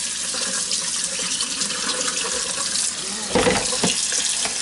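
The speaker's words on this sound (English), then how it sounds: "now we're just going to fill this bowl" Cold tap water runs steadily into a bowl, a continuous close splashing hiss that swells briefly near the end as the stream shifts, set up for pickling northern pike fillets.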